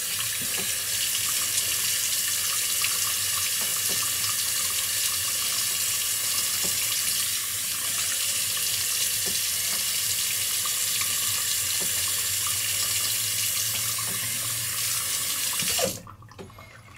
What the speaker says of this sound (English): Let's put some more water.